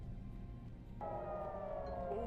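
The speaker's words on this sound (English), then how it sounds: "Sirens are going off." A siren starts up partway through, a steady wailing tone that slowly dips in pitch, fairly faint against low background noise.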